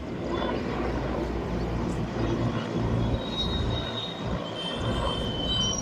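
A relief helicopter over rain-flooded Vadodara gives off a steady broadband rotor and engine roar, moderately distant and unbroken, with no talk.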